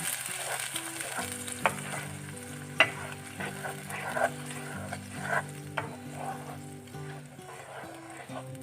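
Ground spinach and coconut masala paste hitting hot oil with golden-fried garlic in a pan for a chutney, a loud continuous sizzle with intermittent stirring scrapes and clicks over background music.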